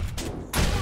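A hunting rifle shot in the zombie survival game 7 Days to Die, two sharp broadband blasts, the second stronger and trailing into a brief ringing tail, loud and close with no talk.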